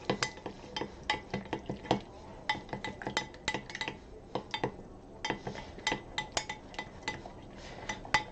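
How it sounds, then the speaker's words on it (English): Utensil stirring a truffle mixture with added oil in a bowl, giving repeated clinking scrapes in an uneven rhythm, close and fairly quiet, with no talking. "we're gonna add a bit of oil to it and mix that up"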